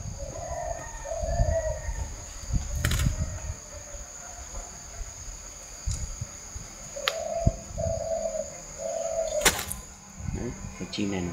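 Spotted dove cooing near a nest box set up for breeding doves, a few soft repeated coo phrases at moderate distance amid outdoor ambience with sharp knocks and some human voices.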